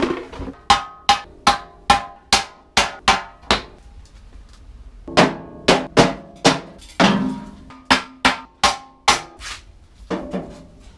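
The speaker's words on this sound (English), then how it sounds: "if I pound that down with the hammer, this lip on this grease tray" A hammer pounds the lip of a metal grill grease tray in quick bursts of sharp ringing blows, with short pauses between groups, loud and close.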